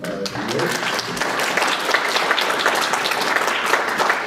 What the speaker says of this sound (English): he deserves a warm bit of applause for his work